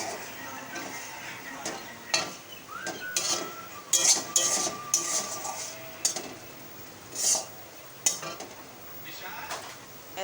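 Spice paste fries gently in oil in a pan, a soft sizzle under scraping spatula strokes and scattered metallic clinks against the cookware.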